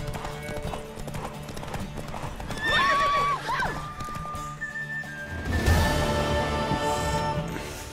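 A horse in the video game The Witcher 3 whinnies loudly while hooves clip-clop steadily, with game music and effects underneath and a crash near the end.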